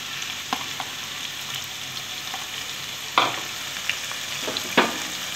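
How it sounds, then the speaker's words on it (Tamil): Large onions fry in a pan over a medium flame with a steady, close sizzle, broken by a few sharp clicks and scrapes of a spoon stirring, as the base for an egg curry is cooked. "ஸோ இதை வந்து நல்லா வதக்கிக்கோங்க."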